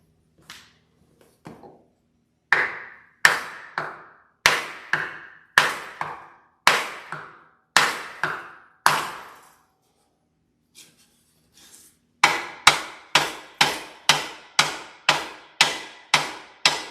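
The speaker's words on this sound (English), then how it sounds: "Maybe I'll use a block of wood and a bigger hammer." Sharp hammer blows striking a block of wood while working on a 1970 El Camino restoration, a slow series of about nine loud evenly spaced knocks, a pause, then a faster run of ringing strikes.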